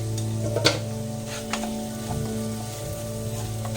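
Spiced egg biryani mixture with biryani masala and salt being sautéed in a pan, a steady sizzle punctuated by a few scraping stirs, close by, with a low constant hum underneath.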